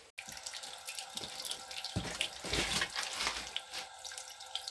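Water sprays and hisses from a pressurized tank on top of a well being taken apart, a steady gushing rush with a sharper surge midway, fairly faint.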